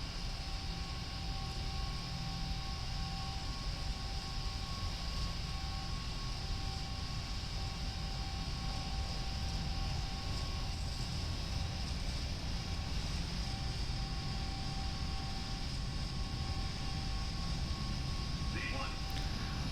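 PMDG 747-8F freighter jet engines in a flight simulator during the takeoff roll, a steady, loud roar and whine that stays even throughout, with someone talking over it.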